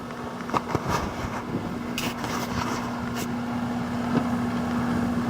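An outdoor HVAC condensing unit at the north side of a recently built North Texas house runs with a steady hum and fan whoosh, plus a few faint knocks and rustles, with no talking.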